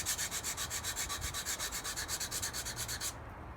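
A tanto knife blade is sharpened on a stone with heavy material removal, making rhythmic, close scraping strokes that repeat about four times a second and stop abruptly near the end.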